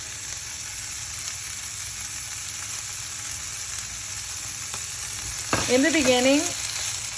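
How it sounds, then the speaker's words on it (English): Onions sauté in rendered bacon fat over medium-low heat, giving a soft, continuous sizzle; someone briefly speaks near the end. "if you just let them saute at medium heat, medium to low, gently saute with the bacon fat"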